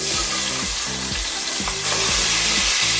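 Fresh tomato sautéing in a pan for Filipino chicken asado. A loud, steady sizzle plays with low rhythmic scraping strokes about every half second as a spatula stirs, and no one speaks.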